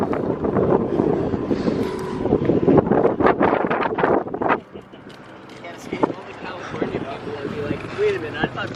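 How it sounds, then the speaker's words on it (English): Strong wind buffeting the microphone outdoors in a dusty, windy open camp area near a truck, a loud continuous rumbling gust for the first half that eases into a steadier, lighter wind, with a voice talking over it. "It is dusty and windy."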